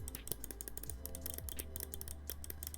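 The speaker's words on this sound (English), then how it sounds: "Those are the mouse clicks." Clicking of a Hitscan Hyperlight computer mouse, a fast run of sharp, close clicks over a steady low hum, with no talking.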